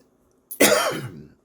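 A single harsh cough bursts out after a moment of quiet, rough and close, trailing off over about a second, from a racing video game running on a PS2 emulator.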